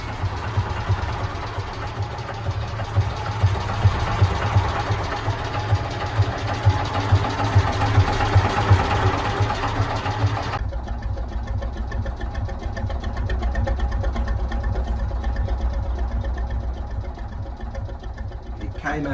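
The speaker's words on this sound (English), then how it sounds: "It's a very slow revving engine. I'll start it up for you." A slow-revving historic engine on a replica narrowboat, taken from a wooden tug, idles with a steady low chugging pulse, close and loud. The tone shifts partway through, and it runs alone without talk.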